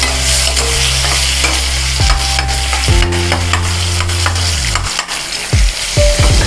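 Amla, Indian gooseberries, sizzle and fry in hot oil as they are stirred, scraping and clattering in the pan repeatedly, loud and close with no talking.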